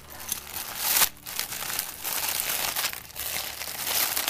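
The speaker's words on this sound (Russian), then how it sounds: "И давайте откроем вот эту посылочку." A parcel package from AliExpress being opened by hand, with close, loud crinkling and rustling of plastic wrapping in uneven bursts, including a sharp tearing crackle and no talking.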